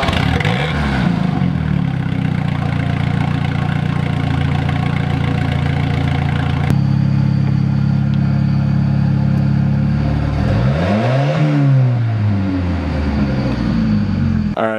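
Volvo turbo drift car fitted with a side pipe, its engine idling loud and close with a steady rumble, then blipping through a few rising and falling revs near the end.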